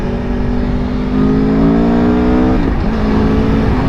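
A large motorcycle cruises on a highway, its engine droning in a steady loud hum with wind rush, the pitch rising slightly then dipping as it shifts, close and continuous.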